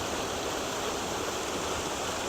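Steady rushing water of a waterfall at Fairy Glen, Appley Bridge, roars evenly throughout, a dense unbroken hiss with no pauses or other sounds.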